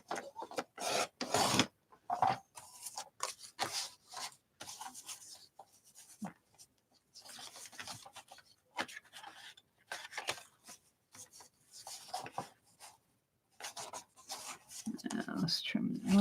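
Paper trimmed to size against a straight edge for tea bag and envelope art, heard as close, intermittent scratchy rasping strokes in short bursts with pauses between them.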